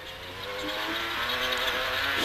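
A Mitsubishi Lancer rally car at the Dakar Rally drives on with its engine droning steadily and rising slightly in pitch, heard at moderate distance without pause.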